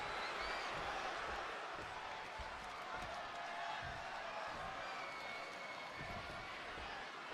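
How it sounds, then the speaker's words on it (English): A dense, steady roar from a large arena crowd in Chicago fills the WWE 2K26 wrestling game as CM Punk squares off against Eddie Guerrero, a loud, continuous wash of cheering with scattered claps and no clear pauses. "just listen to this crowd here in Chicago"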